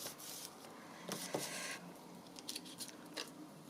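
Scissors trimming a paper bag made from a single folded, glued sheet of paper, heard as quiet crisp snips and rustling cuts in bursts, close and faint with no talking.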